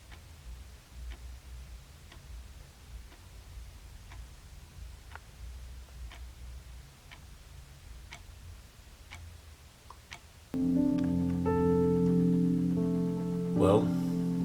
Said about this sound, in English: I was annoyed by this clicking sound.